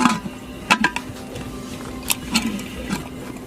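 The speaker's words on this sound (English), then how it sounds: "we will simply close the lid of this pressure cooker" A pressure cooker lid being closed, a few metallic clunks and scrapes over a low steady hum, close and brief, the knocks clustered early, then a softer rattle near the end.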